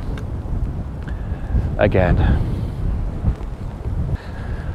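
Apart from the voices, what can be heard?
strong wind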